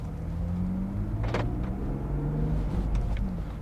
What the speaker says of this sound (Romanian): mă uit ce ușor pleacă de pe loc